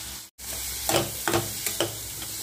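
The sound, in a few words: onion sautéing in oil with garlic and green chili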